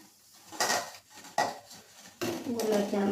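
Fried gulab jamun lifted out with a slotted spoon, giving a few close metallic scrapes and clinks against the pan with a faint sizzle between them.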